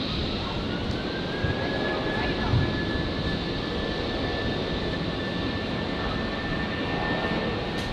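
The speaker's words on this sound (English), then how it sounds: "Jetstar 821 on the roll" Jetstar flight 821, a jet airliner, rolling for takeoff at Brisbane Airport, a steady loud engine roar with a rising whine, heard under intermittent talk.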